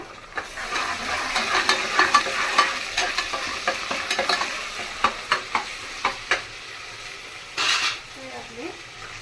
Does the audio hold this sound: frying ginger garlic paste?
yes